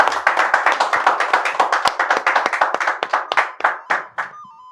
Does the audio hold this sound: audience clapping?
yes